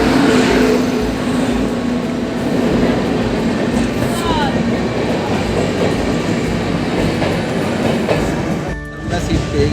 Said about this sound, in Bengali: আমাদের ট্রেন তাম্রলিপ্ত এক্সপ্রেস চলেই এসছে